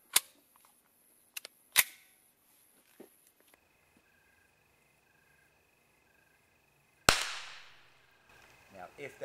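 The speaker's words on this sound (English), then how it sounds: "I'm going to shoot some of the subsonics without ear protection" A Kel-Tec P17 pistol fires subsonic rounds outdoors as a few sharp, short cracks, one markedly louder near the end with a decaying tail, amid quiet background insect chirping.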